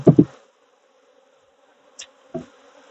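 Honey bees buzz at an opened hive in short close bursts, a loud cluster at the start followed by brief fainter buzzes over near silence, with no voices.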